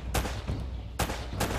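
Several AK rifle shots in the video game Uncharted: Drake's Fortune, three loud sharp bursts spaced unevenly over a steady low rumble of game ambience, close and punchy with no talking.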